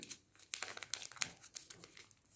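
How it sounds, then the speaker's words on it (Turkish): Adhesive tape torn from the roll and wrapped tightly around an electrical cable for a toy, with a quick series of close, sharp crinkling rips and sticky crackles and no talking. "güzelce bantlıyorum"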